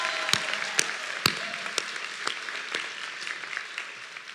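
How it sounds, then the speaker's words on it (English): A high school graduation audience applauds, a dense wash of many hands clapping at a steady level, with a few sharper nearby claps standing out early on. "Please help me give our dignitaries one last big round of applause for their support of Ferguson High School and our students."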